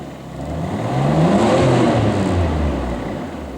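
Nissan Skyline R34 GTR engine revving up under acceleration, a steady close whirring drone that swells in the middle and eases off, with no talking over it.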